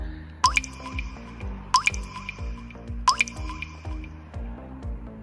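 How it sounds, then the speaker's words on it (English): Teaspoons of water go into an edible slime mixture, with three distinct splashy drips spaced a little over a second apart, each followed by a soft squishy settle, close and fairly loud with no talking. "Okay, so now I'm gonna add the water."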